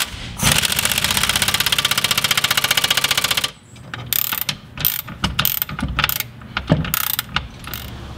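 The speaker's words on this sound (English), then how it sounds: "you're just gonna attach the nut through here and tighten everything up" A ratchet tightens the nut on a car's coilover suspension arm, first with a fast, loud continuous clicking run, then a series of slower, separate clicks and knocks close by.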